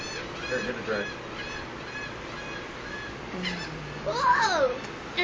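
Seabirds and gulls calling at a beach while being fed bread, several squawks and honking cries rising and falling over steady surf-like background, one loud close call near the end, with faint voices in the distance.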